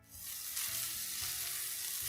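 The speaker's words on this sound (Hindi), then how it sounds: "मावा हमारा भुन गया है।" Mawa, milk solids, roasts in a pan on a gas stove for gujiya, giving a steady, close sizzle that swells slightly and holds constant with no talk.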